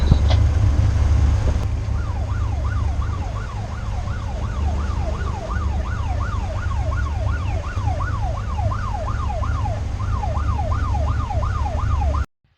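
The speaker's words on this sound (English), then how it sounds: "That alarm there is the anchor alarm." A boat's anchor-drag alarm from the Anchor Pro app shrills in a steady, repeating warble of rising and falling electronic tones, sounding continuously over a low engine rumble.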